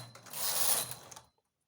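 A knitting machine carriage slides across the needle bed making stitches, giving one short, close, raspy mechanical sweep that swells and then stops abruptly.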